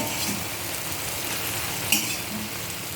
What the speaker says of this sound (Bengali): মাছগুলো দিয়ে একটু নাড়াচাড়া করে তারপর ঝোল দিয়ে দিব